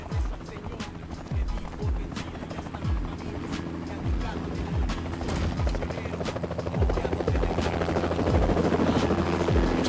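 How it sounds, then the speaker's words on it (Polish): A helicopter in the video game 25 to Life, its rotor thumping in a fast, steady beat, loud and close throughout, with game sound layered over it. "Czyli uciekamy tym helikopterem."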